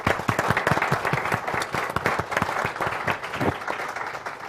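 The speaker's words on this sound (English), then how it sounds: "So if we could do a round of applause for everybody." An audience at a climate change report event breaks into applause for the staff, a brisk patter of many hands clapping steadily throughout.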